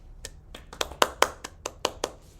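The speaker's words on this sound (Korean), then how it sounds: "박수 치고 마치겠습니다" A small group claps to close a speech, a handful of sharp, separate hand claps at an uneven pace over a quiet room, fairly close and moderately loud.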